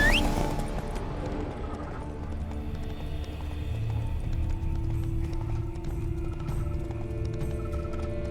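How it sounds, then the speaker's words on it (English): Horses clip-clopping at a run in The Witcher 3: Blood and Wine, steady hoofbeats close by with a brief whinny early on, under a low ambient game soundscape. "Horses must have gotten spooked."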